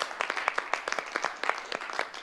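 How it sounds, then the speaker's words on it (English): A small audience claps for performers Luca, Khadija and Alessio at a music-and-poetry event, a brief burst of quick, uneven claps heard alone. "A clap to Luca, Khadija,"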